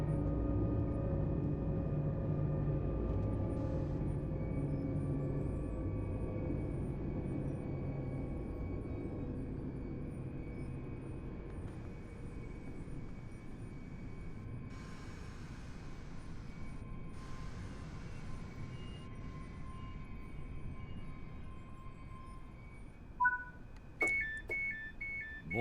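Train pulling into Morningside Station, a long fading mechanical hum and hiss of the slowing carriages, ending with a few sharp beeps as it comes to a stop.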